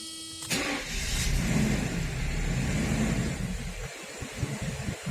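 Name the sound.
car engine starting and running a little lumpy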